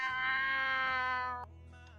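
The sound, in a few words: person imitating a cat meowing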